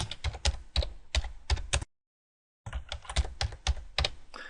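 Keystrokes on a computer keyboard as a new audit name is entered, a rapid uneven run of close clicks with a pause of silence midway before typing resumes.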